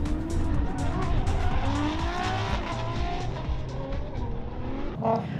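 A high-power S chassis car drifts around a go-kart track in the Arizona desert, its engine revving hard under sustained tire squeal, loud and continuous until a brief dip near the end.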